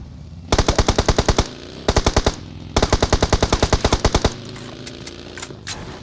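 Automatic weapon fire in a survival video game rattles out in three rapid, evenly spaced bursts, loud and close, followed by a few faint scattered shots.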